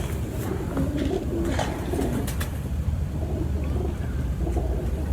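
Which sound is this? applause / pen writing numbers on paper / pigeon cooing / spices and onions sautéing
pigeon cooing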